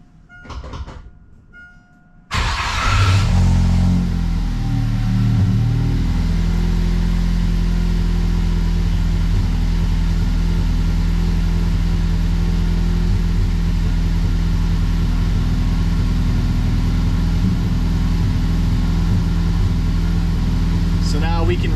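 An EcoBoost engine swapped into a Foxbody Mustang cranks and catches after a brief quiet stretch, then settles into a loud, steady low idle that drones on close by for nearly twenty seconds.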